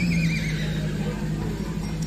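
A jumbo Sumba horse at a horse market lets out a loud close neigh that trails off into a wavering whinny over a steady crowd murmur.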